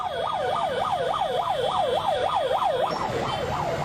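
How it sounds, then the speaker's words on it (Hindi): Loud wailing sirens on a UP minister's convoy cars in Azamgarh, rising and falling steadily in a fast repeating sweep, with a second siren cutting in near the end over road noise. "ये पहले हुटरों की आवाज सुनिए आप भाई साहब"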